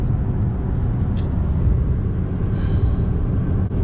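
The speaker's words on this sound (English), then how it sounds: "A Swift truck just drove by." A Swift semi truck passes on a highway near the Maryland border, a loud, steady low road rumble and engine drone heard from inside a moving car, with a brief hiss partway through.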